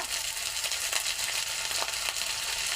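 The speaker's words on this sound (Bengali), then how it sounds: "মাছ রান্নার জন্য তেল দিচ্ছি পেঁয়াজ তেজপাতা আদা বাটা" Onion, bay leaf and ginger paste frying in oil over a clay stove, a steady dense sizzle holding at an even level throughout, close by with no talk.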